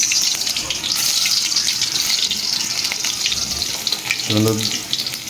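Sliced onions fry in a pan of hot oil, giving a continuous bright, close sizzle with a brief low voice near the end.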